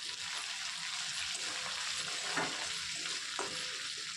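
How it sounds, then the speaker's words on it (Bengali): Curry leaves and dal frying lightly in a pan for a rava vegetable idli, a steady soft sizzle with occasional stirring scrapes, close and continuous. "এগুলো দিয়ে আমি একটু ভালোভাবে মিশিয়ে নেব, হালকা হালকা ভেজে নেব এগুলো।"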